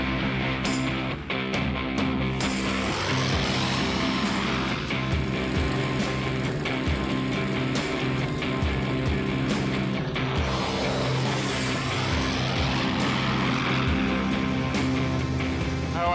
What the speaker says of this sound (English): Now the takeoff. Throttle right forward. Stick central. Ease her off the ground.